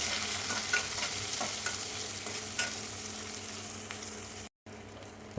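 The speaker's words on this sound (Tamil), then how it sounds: "கட் பண்ணி வச்சுருக்கிற வெங்காயத்தை அதில் ஆட் பண்ணி நல்லா வதக்கிடலாம்" Onions and garlic sautéing in oil with mustard seeds for a bitter gourd tamarind curry, a steady close sizzle with occasional stirring scrapes and a brief break near the end.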